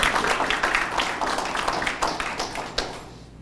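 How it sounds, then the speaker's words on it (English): Steady clapping from a crowd, a dense wash of hand claps with a few sharper individual claps standing out. "Give yourselves a round of applause."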